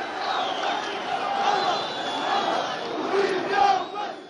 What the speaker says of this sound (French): Un bain de foule au milieu de ses partisans